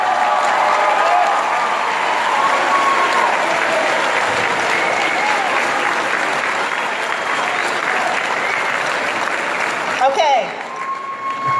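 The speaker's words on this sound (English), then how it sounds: "you can get up and cheer for the Spartans team of 2018." Graduates of the Pinole Valley class of 2018 cheering and applauding at their graduation, a loud, dense wall of clapping and crowd noise that fades near the end as a voice speaks briefly.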